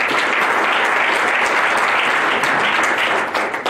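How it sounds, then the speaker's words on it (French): An audience at a community gathering gives dense, loud, continuous applause, which thins slightly at the very end. "Donc si vous pouvez applaudir Mme Diallo."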